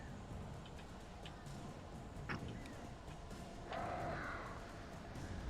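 Faint crows cawing in the video game Alan Wake, a few short harsh calls spread over a quiet, noisy ambient background.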